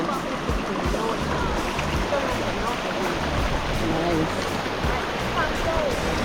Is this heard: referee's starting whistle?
no